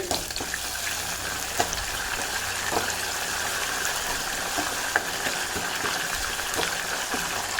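Curry leaves sizzle and crackle in hot tempering oil for a gongura tomato curry, a steady close frying hiss with occasional sharper pops throughout.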